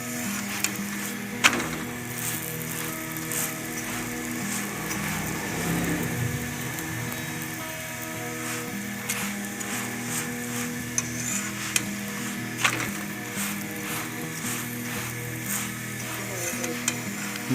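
Aloo paratha, a potato-stuffed flatbread, fries dhaba style on a hot griddle with a steady crackling sizzle throughout, broken by occasional sharper pops and scraping stirs.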